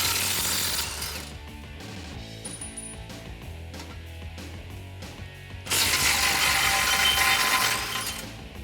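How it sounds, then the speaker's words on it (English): Ratchet wrench with a 15mm socket backing out tow hook bolts on a 2015-2019 Ford F-150, with rapid mechanical clicking and gear noise close up, plus a louder, harsher burst near the end. "Grab your 15mm socket and get those off."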